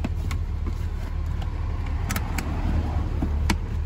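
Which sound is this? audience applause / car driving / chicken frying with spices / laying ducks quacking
car driving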